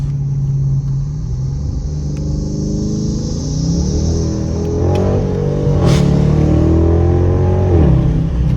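A Dodge Charger R/T's engine and exhaust rumble steadily and then climb in pitch as it accelerates, heard from inside the car and loud throughout, with rising harmonic tones toward the end.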